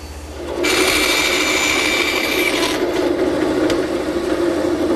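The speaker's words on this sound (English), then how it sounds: "I'm just raising the blade slightly to make the shoulder cut at each edge." A table saw with its blade raised slightly cuts the edge shoulders of tenons on chair stretchers for a Morris chair. A loud, steady whine runs for several seconds over the constant hum of the workshop.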